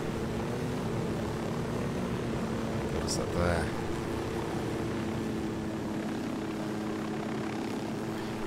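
A helicopter flying in the video game Ghost Recon Wildlands, a steady, loud rotor and engine drone that continues throughout, with someone briefly speaking over it.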